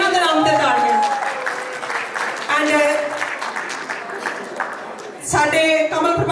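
Guests at a charity dinner and dance applaud in a moderate round of clapping that runs under a speaker's amplified voice, with a fresh swell near the end.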